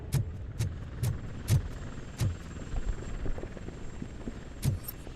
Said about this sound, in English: That's a TV helicopter.